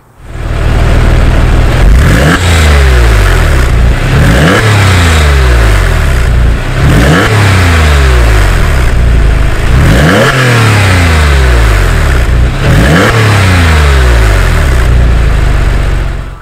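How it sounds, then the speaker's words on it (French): A Porsche 996 Targa's flat-six engine revs repeatedly, loud and close, rising sharply and falling back about six times in a regular rhythm with no talk. "je vous propose tout de suite d'écouter le grondement de ce gros flat 6 Porsche"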